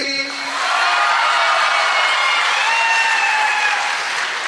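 Student audience bursts into strong applause with some cheering and whoops, a full, sustained crowd roar of clapping lasting several seconds after a voice briefly at the start.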